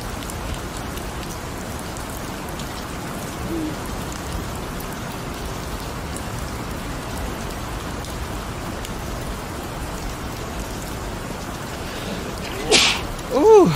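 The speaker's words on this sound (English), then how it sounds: "Ambient rain, we love it." A steady ambient rain hiss runs continuously as a close, even background wash, with a couple of faint brief noises near the end.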